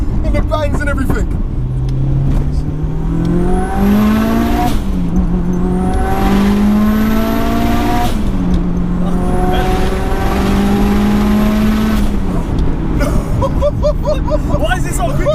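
A 550bhp 2.3-litre stroker Mitsubishi Evo 6 accelerating hard through several gears, each loud rising engine sweep cut by a sharp shift, with people talking excitedly over it from inside the car.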